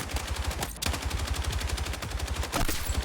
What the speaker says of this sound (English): I love running support, so I like using an LMG.